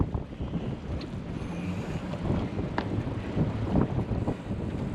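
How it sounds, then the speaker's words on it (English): Steady wind buffets the microphone on an exposed seaside fishing pier, a constant broadband rush with gusting swells and no speech. "Bit windy."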